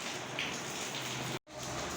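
Steady rain falling outdoors, a dense even hiss of drops on surfaces, fairly faint, with one brief gap of near silence partway through and no talk.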